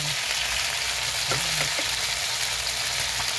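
Marinated chicken skin frying in hot oil, a steady dense sizzle with scattered sharp pops and splatters, close and continuous, with faint clinks of stirring.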